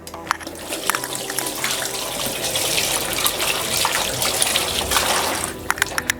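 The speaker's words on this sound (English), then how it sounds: "Next, you want to wash your hands." Tap water runs steadily into a sink during handwashing after handling raw meat in a home kitchen, a continuous splashing hiss with occasional sharper drips and clatters.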